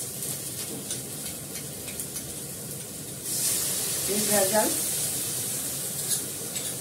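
Homemade yogurt is spooned into sizzling, well-fried masala in a pan, and the steady hiss swells when it goes in, with brief stirring scrapes.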